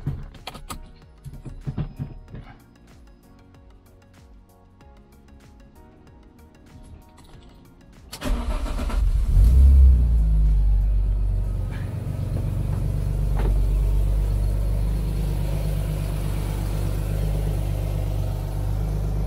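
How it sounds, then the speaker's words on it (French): An Alfa Romeo 156 GTA, back on the road after a breakdown and a broken radiator, sits quietly amid some clicks before the engine cranks and catches with a deep rumble, then settles into a loud, steady close-up idle. "on est prêt à la démarrer pour la première fois et voir si l'alternateur et tout fonctionne bien"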